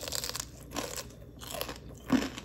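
Crispy fried pork crackling is bitten and chewed up close, giving a few loud brittle crunches at irregular intervals with quieter mouth sounds between, and no speech.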